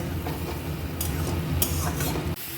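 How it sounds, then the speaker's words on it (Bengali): Spices such as turmeric and coriander powder being stir-fried in oil for a Bengali fish curry, giving a steady close sizzle with scraping stirs and a brief drop near the end. "এবারে তেল ছেড়ে না আসা অবধি কষিয়ে নেব"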